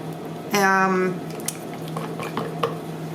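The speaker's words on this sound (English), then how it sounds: "So I'm just going to stir it up and decide if I need to add some more mica" A utensil stirs mica powder into melted soap base, giving soft scraping and clinks in a container, with a brief ringing tone early and light taps afterward.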